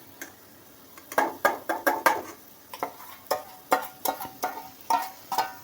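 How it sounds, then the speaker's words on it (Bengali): Ground spices (turmeric, cumin, chili, coriander powder and salt) stir-fried in a pan, with steady rhythmic scraping strokes of a spatula over a low sizzle, close and fairly loud, with no speech. "এবার মশলাটা ভালো করে কষিয়ে নেব।"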